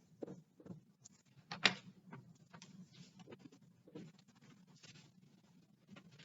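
Students writing on paper in a classroom, soft scattered scratching and tapping of pencils with faint room murmur, quiet and irregular, one sharper knock partway through.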